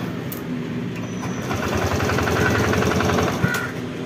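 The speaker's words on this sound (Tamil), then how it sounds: "நம்ம வண்டி ஸ்டார்ட் பண்ணாக்கா" A TVS XL100 BS6 moped engine with a stalling fault runs with a steady, close, rattling putter that holds for a few seconds, loud and continuous, with no talking.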